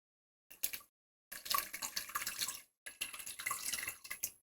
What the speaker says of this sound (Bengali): হাফ কাপ মতো পানি দিয়ে দিলাম।